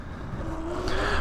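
A Sur-Ron electric dirt bike fitted with a DNM 750lb rear suspension spring rides fast along a street, giving a steady close whine that rises in pitch against continuous wind and road rush, growing a little louder toward the end.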